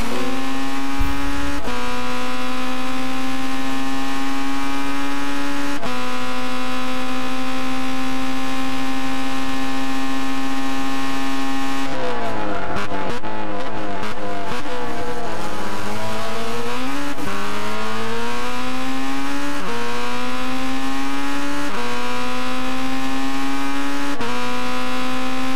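Red Bull X2014 race car heard on board, engine tone dropping sharply under hard braking from about 134 mph with downshift blips, then climbing again as it accelerates away; loud, steady and close with no talk.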